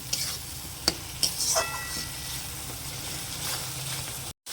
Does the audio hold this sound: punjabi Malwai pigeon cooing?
no